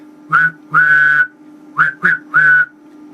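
Whistling tones from amplifier transformers under repair, rated 13,000 watts and fitted in a 5k amp, ring out in five separate bursts of varying length over a steady low hum.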